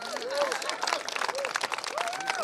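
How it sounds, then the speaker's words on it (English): Audience at a Detroit solar energy event claps briefly in a steady patter, with a voice talking over the applause throughout. "yeah, you can clap for that."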